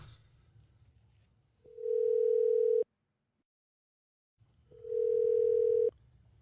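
A telephone dial tone sounds twice as steady, even tones of about a second each, separated by a short silence and preceded by faint background murmur.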